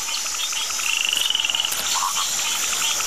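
Purple pig-nosed frog croaking in a short rhythmic pulsed series at mid distance, surrounded by a steady chorus of insects and other night calls.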